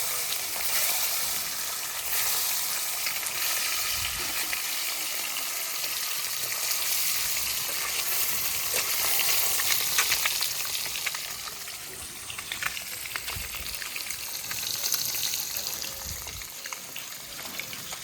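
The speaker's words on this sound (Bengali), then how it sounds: "ডিমগুলো এখন ভেজে নেব।" Eggs sizzle and crackle in hot oil over a long stretch, a steady bright hiss with occasional scraping and stirring noises nearby.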